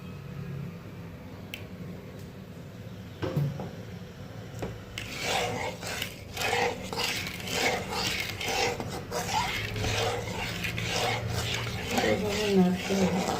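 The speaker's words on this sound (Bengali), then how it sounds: "এবার এটাকে এরকম করে আমি নাড়বো" A soybean kofta mixture is stirred in a pan on the stove, starting quiet and then turning into continuous close scraping and rubbing strokes against the pan in an uneven rhythm.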